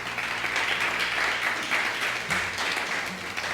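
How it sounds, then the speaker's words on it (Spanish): A church congregation applauds during a Spanish-language sermon: steady, dense clapping from many people fills the room, holding at an even loudness with a low hum underneath and no clear talk over it. "Démosle un aplauso al Señor"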